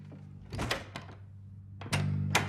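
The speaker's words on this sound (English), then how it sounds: "a series of actions of the hostess locking the door after closing the door" A door being closed and then locked by a hostess, a film sound effect: a low background hum runs under a cluster of clunks and rattles, then a sharp thunk and a final latch click close by.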